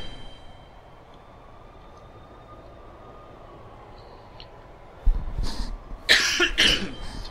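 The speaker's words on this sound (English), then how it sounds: "Got a little bit of a cough." A person coughs several times in quick succession, a close, loud burst of harsh coughs breaking out after a stretch of quiet background hum.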